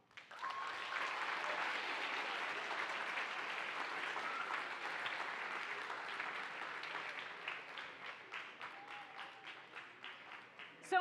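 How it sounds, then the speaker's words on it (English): A live audience gives a steady round of applause, a sustained wash of clapping at a fair distance that thins toward the end into a few scattered claps. "Give her a round of applause."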